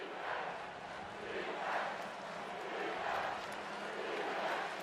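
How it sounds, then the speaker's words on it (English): A small section of Florida State fans in a far corner of a college football stadium chants "defense" against Clemson, a faint, rhythmic crowd chant rising and falling in regular swells over distant stadium murmur. "the only noise we hear right now is the Florida State small section in the far left corner chanting defense"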